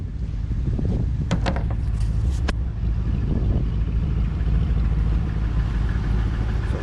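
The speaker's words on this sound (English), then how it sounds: "So it sounds like a Hemi." A truck's Hemi engine idles steadily up close, a low, even rumble throughout, with a few brief sharp clicks or taps over it early on.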